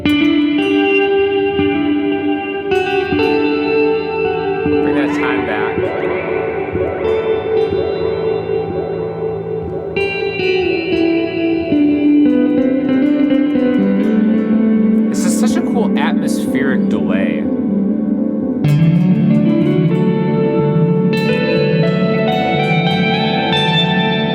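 Electric guitar played through a Sonicake Levitate effects pedal, a budget $56 unit, with reverb and delay engaged, giving sustained chords and notes that trail into echoing repeats and a washy tail, loud and continuous with no talking.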